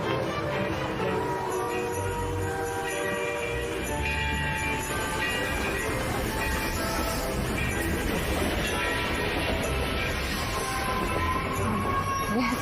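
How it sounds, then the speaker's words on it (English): A vintage Long Island Railroad train runs in December service, giving a steady, continuous rumble and rolling rail noise with faint music underneath. "The Long Island Railway puts this vintage train back into service every December."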